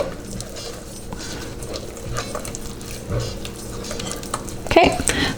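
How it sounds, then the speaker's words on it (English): A baby food mixture is stirred in a bowl, giving a steady, soft scraping and churning that runs close by throughout, with a brief sharper clink near the end. "Mix that up."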